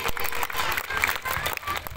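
Applause from the audience at a school annual day celebration for the children, brisk irregular clapping mixed with crowd noise and some voices over a couple of seconds.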